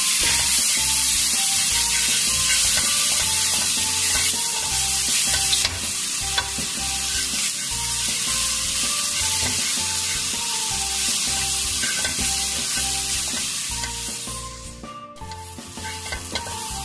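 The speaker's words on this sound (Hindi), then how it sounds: "अब मैं इनको अच्छी तरह फ्राई करूंगा।" Garlic-ginger paste and green chilies fry in a pan with a loud, continuous, close-up sizzle, while scraping stir strokes repeat in a rough rhythm over the whole stretch, and no one speaks.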